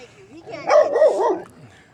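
A puppy on a city street at night gives a short burst of muffled, whining yips and barks, close and fairly loud, lasting about a second amid faint background noise.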